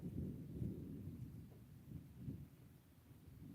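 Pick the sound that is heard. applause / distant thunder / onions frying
distant thunder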